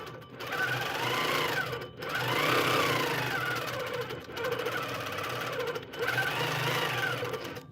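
A HandiQuilter longarm quilting machine stitches a feather pattern, a fast rhythmic mechanical chatter heard close and loud in several long runs, each broken by a short pause.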